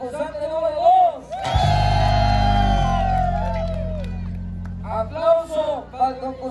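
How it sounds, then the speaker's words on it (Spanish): A crowd cheers and whoops for a contestant at a jaripeo-baile in Plaza Los Compas, La Calzada, Ciudad del Maíz, San Luis Potosí. A loud, sustained swell of shouting runs several seconds over a low droning tone, bracketed by someone speaking. "Aplauso para el concursante número 2."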